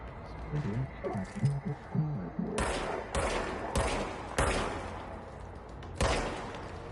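A gun firing in a video game set in the Oldest House: five loud, close shots at uneven intervals, coming after a voice talks over game sounds.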